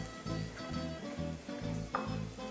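Ginger and garlic sizzle and fry in hot oil in a pan while a sesame chicken and broccoli dinner is cooked. A steady, close crackle runs throughout, with faint stirring and no talking.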